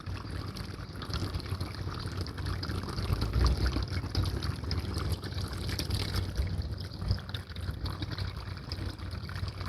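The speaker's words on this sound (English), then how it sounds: "Thank you so much for sending us this fountain." A garden fountain splashes and trickles in a steady wash of falling water, close and continuous, with faint swells of louder pouring and no one speaking.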